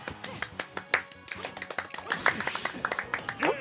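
Several people clap in quick, uneven bursts, the claps sharp and close, with voices talking and exclaiming over them throughout.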